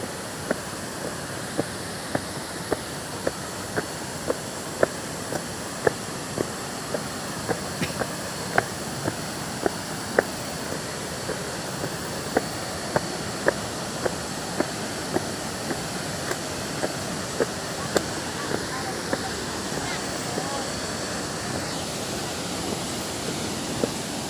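Silima 5 waterfall (Air Terjun Silimalima) roaring as a steady, broad wash of falling water, constant and fairly loud throughout, with scattered faint clicks and no speech over it.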